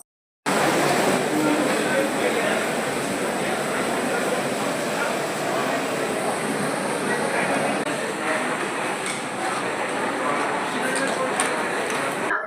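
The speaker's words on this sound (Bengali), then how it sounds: "আমাদের ট্রেন এখন প্ল্যাটফর্মে দিয়ে দিয়েছে শিয়ালদা থেকে শিয়ালদা বালুরঘাট এক্সপ্রেস" The Sealdah–Balurghat Express rolling in at a platform, a steady broad rumble and rattle of rail cars that holds for over ten seconds, with faint voices in the station background.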